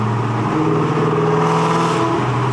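A car engine fitted with Stage 3 Comp Cams hums loudly and steadily under light throttle, its low, lumpy drone shifting pitch slightly as the revs change, with no talking.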